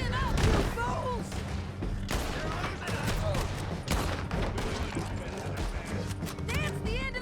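Gunfire rings out during a chaotic shootout in Red Dead Redemption 2, with repeated sharp shots and impacts scattered throughout, layered under game music and shouting voices.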